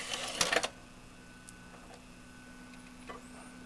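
A 2003 Panasonic DMR-E100H DVD recorder with a faulty DVD side loads and reads a test disc, giving a short burst of mechanical whirring and clicking at the start, then a low steady hum with faint occasional ticks.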